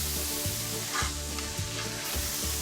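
Seasoned beef patties sizzle steadily on a hot griddle, a loud, close, continuous crackle with small pops and occasional scraping, heard alone without talk.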